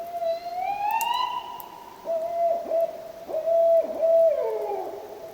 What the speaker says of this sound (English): as I found out, that was a barred owl, but it was doing a different kind of call